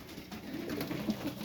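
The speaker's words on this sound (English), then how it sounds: "Yeah, we're back checking out the birds." Pigeons in a loft coo steadily in soft, low, rolling calls, close by and fairly quiet, with no voices.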